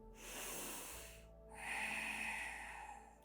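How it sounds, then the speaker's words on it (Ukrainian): Two soft, close breaths during a relaxing yoga session: a deep, airy inhale, a short pause, then another long, slightly wheezy breath, quiet and with no speech. "Вдих."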